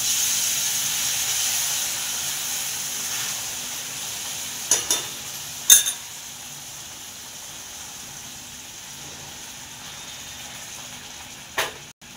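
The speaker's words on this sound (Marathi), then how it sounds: "तर आपली छान अशी मटकी बघा उकळायला लागलेली आहे" Matki misal of moth beans boiling in a pot, with a steady steamy hiss and bubbling that fades slightly over time and a few sharp metallic knocks, no talking.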